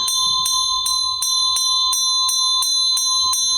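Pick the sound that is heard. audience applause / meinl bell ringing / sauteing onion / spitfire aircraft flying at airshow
meinl bell ringing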